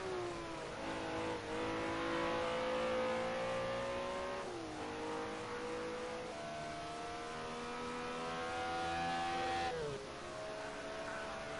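Multiple BMW M1 Procar race car engines roar together in a racing video game at Road America, a steady loud drone with rising and falling revs and gear shifts throughout, no voices.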